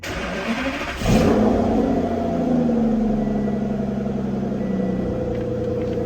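A 2009 Aston Martin DBS Coupe engine cranks and fires up with a loud roar, then settles into a deep, steady rumbling idle close by.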